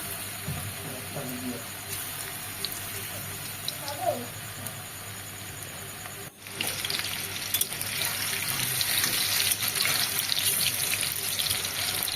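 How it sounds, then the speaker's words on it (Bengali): Chicken pakoras dropped one by one into hot white oil, a soft bubbling hiss that grows into a denser, louder frying sizzle halfway through, with quiet speech underneath. "সাদা তেল দিয়েছি এক এক করে এবার পকোড়াগুলো দিয়ে দিচ্ছি"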